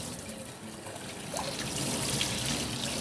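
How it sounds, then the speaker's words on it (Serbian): Cooked rice is rinsed under a stream of cold water, a steady close trickle and splash that grows slightly fuller partway through, with no voices. "Rižu nakon kuhanja isperte pod mlazom hladne vode"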